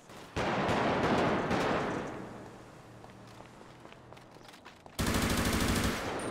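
Automatic gunfire in GTA roleplay, shots fired at police: a loud close burst of rapid fire at the start, fading into scattered distant shots, then another sharp heavy volley near the end.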